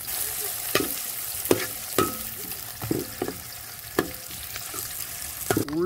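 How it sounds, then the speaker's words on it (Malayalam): Cloves, chillies, ginger and garlic fry in a pan for a beef rib curry: a steady close sizzle broken by about eight sharp scrapes and clacks of stirring. "ഗ്രാമ്പു ഈ മുളകെല്ലാം കൂടി ഇട്ടു മൂത്ത് വന്നിട്ട് നമുക്ക് ഇഞ്ചി വെളുത്തുള്ളി കൂടെ ഇട്ടേ കേട്ടോ."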